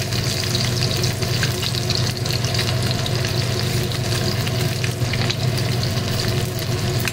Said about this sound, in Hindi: ये जो कढ़ाई है वो आयरन की है, तो इसमें फ्राई का जो भी करना होता है ना वो बहुत अच्छे से होता है।